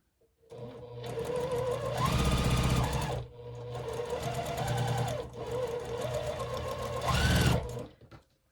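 A sewing machine stitches a flying geese quilt block in three loud, steady motor-driven runs, close up, with brief pauses between bursts and no talking.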